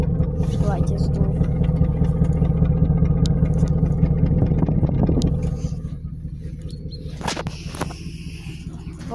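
A BMW 745i idles with a steady low rumble and faint mechanical clatter that eases slightly partway through, heard up close outdoors.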